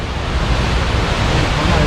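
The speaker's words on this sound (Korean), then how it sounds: "여기서부터 폭포야 벌써" Staubbach Falls in Lauterbrunnen, Switzerland, roaring close by: a loud, steady wash of water noise with no breaks.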